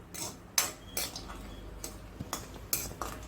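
A spoon scraping and clinking against a pan while semolina roasts in ghee over low heat, with a few sharp metallic taps spaced through a quiet, close background.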